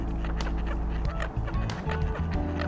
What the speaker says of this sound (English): The American coots here were especially curious and were the least bothered by my presence at the water's edge.